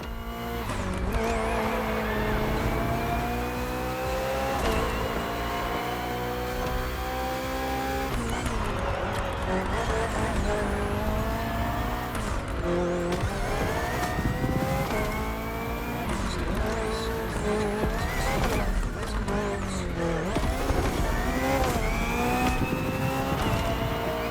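BMW Hybrid V8 race car in The Crew Motorfest, engine roaring and climbing through gears with repeated rising revs, downshift drops and brief tire squeal, loud and continuous throughout.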